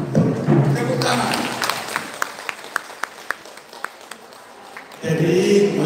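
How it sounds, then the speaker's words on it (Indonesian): Applause and clapping at a Batak Siahaan clan New Year celebration gathering in Bandung, a crowd clapping under voices and murmur, with a few sharp separate claps standing out before talk resumes at the end. "tepuk tangan."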